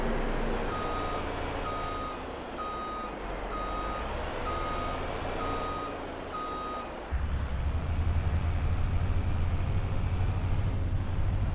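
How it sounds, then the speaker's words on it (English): A truck towing a trailer backs up in Farming Simulator 22, its reversing alarm beeping in an even repeating pattern over a low diesel engine rumble that grows louder and heavier partway through, with no talk. "For now, I'm going to back up and swing all the way back round the main gates."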